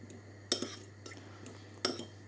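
Apples being mashed with butter and sugar into applesauce, heard as two sharp clinks of a utensil against a dish, quiet scraping between, over a steady low hum.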